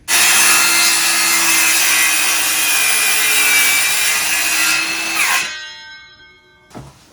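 A power saw cuts loudly and steadily through a wooden closet door trim for about five seconds before the blade winds down, followed by a brief clunk.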